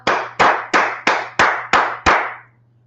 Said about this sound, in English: Let's clap it up for the Holy Tongue.